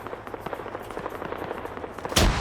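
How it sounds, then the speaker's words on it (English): Rapid gunfire crackles through a PvP video game match, a steady dense volley that ends in a sudden loud grenade blast near the end. "Grenade."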